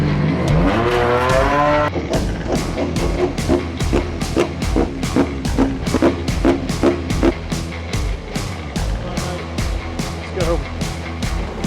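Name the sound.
race cars starting a race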